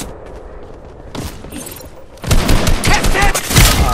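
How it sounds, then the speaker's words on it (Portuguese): Rapid bursts of gunfire in a Vitória Royale battle royale match, loud and close in the second half, with a quieter stretch of distant shots at the start, while players chatter over the action. "Tem um cara do outro lado lá me atirando."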